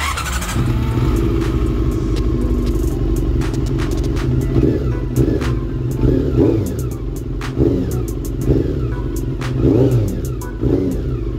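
A Honda CB-1 motorcycle engine with a rough, poorly tuned running fault runs steadily throughout, with a low rumble and repeated short revving surges, loud and close.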